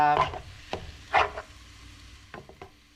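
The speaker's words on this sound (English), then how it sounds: "I'm not going to do anything but brown it up" Ground meat for sloppy joes browning in a pan, with a few close stirring scrapes and soft sizzling bursts over a quiet background.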